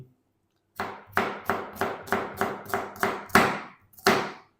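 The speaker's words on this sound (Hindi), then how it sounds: "इस तरीके हमने इसकी कटिंग करनी प्याज की।" A knife chops through onions on a cutting board, nine or ten sharp close strokes in a steady rhythm with a brief pause before the final cuts, no talking.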